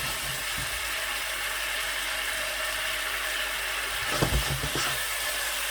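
Chicken fried rice sizzles steadily in a hot pan, a constant broadband frying hiss with a few louder scraping clatters of stirring near the end; no voices.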